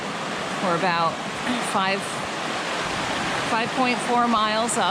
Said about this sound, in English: This is Hellgate Brook, so we're going to cross this.